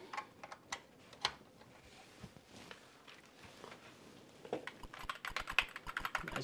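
Typing on a USB keyboard plugged into an Atari 400 Mini, with a run of soft, close key clicks in an irregular rhythm that grows quicker and denser toward the end.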